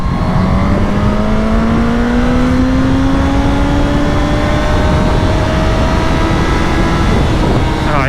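A KTM 990 Duke motorcycle pulls hard in second gear, its engine note climbing steadily under loud, constant wind roar.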